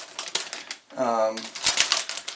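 Keys on a Logitech G810 mechanical keyboard, a quieter-than-usual RGB model with tactile switches, give scattered sharp clicks and taps, with a short voiced hum partway through.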